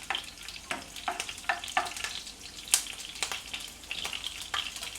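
Green chilli pieces frying in hot oil, a steady close sizzle with frequent sharp pops and crackles scattered throughout, no voices present.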